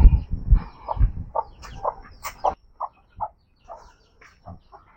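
Chickens kept at a Garo tribal home in Meghalaya cluck and squawk in short, close bursts. Low rumbling handling noise sounds early on, then the calls continue alone.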